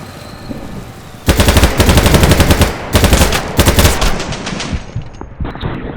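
Loud, close automatic gunfire from the online shooter game BattleBit Remastered: rapid sustained bursts of shots rattle for several seconds with brief gaps, then taper into scattered quieter shots over low game ambience, with no talking.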